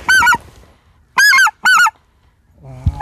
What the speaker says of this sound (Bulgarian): Хубаво е се знае, това са червеногуши гъски, много добре се видяха